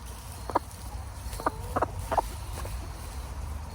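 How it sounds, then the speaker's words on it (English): Chickens in a backyard flock clucking in short, scattered calls, a few distinct clucks over a steady low background rumble. "The chickens are happy, right?"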